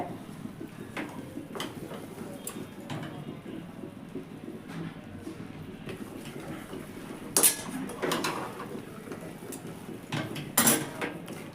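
A utensil scrapes and clinks against a pan while besan flour is stirred and roasted over a low gas flame, soft and steady, with a few sharper metallic knocks.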